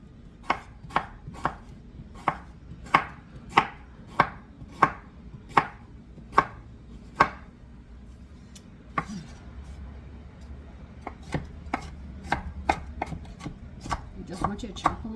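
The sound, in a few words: pears being chopped up for mincemeat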